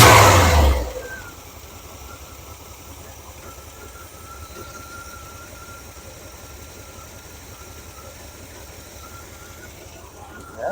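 A 1978 Chevy K-10 truck engine gives a short loud rev at the start, then settles into a steady, even running rumble that continues for the rest of the clip.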